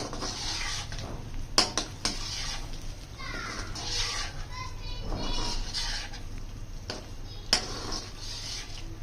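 Fried gola kebabs being stirred into karahi gravy, with a spoon scraping and clinking against the pot in irregular bursts, while faint voices murmur in the background.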